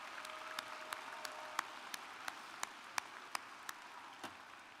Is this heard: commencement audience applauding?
yes